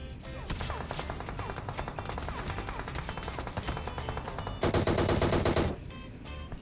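Gunfire in the PUBG Mobile video game rattles in rapid automatic bursts throughout, then a louder, denser volley near the end before the firing drops away.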